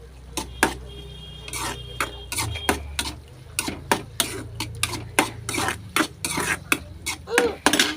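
Ingredients for kothu parotta are sautéed and stirred in a pan: a rapid, uneven run of sharp metal scrapes and clinks over a faint sizzle and low background hum.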